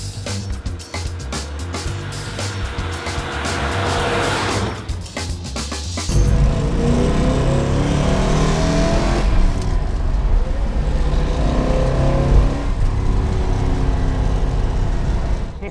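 A Mopar car engine being revved while its carburetors are checked: a loud, close mechanical roar that jumps sharply in level partway through and then holds a heavy, steady drone with no talking.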